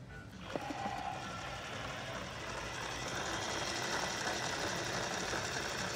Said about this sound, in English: Motorized toilet bowl mixer